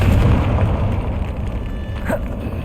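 A Confringo blasting spell goes off in Hogwarts Legacy with a deep boom up front, followed by a crackling, rumbling aftermath that dies down, with a short magical whoosh near the end.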